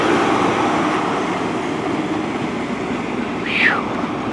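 Train rumbling through Plymouth station on the Great Western main line, a steady broad roar of wheels and engine with a brief high squeal near the end, heard close up with a voice over it.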